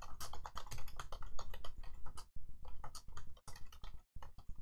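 Rapid, close keystrokes clatter on a computer keyboard in dense bursts with brief pauses, alone without speech.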